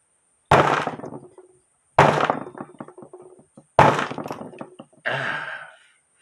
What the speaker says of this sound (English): Took my ball peen hammer, one tap, came right off.